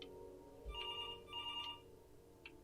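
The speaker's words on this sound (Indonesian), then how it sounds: "Ada telepon, Pak, Bu." A telephone rings at night in the video game Before Your Eyes, three clear electronic ring bursts in an even rhythm, the last one brief, over a quiet low hum.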